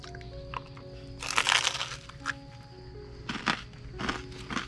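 Crunchy bites into cocoa cream cheese toast, a few bursts of crisp crackling close up with short pauses between them, over a steady background hum.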